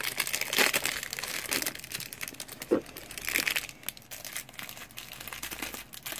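A trading card pack wrapper is torn open one-handed, close crinkling and crackling plastic in short bursts with faint tearing, alone and fairly quiet.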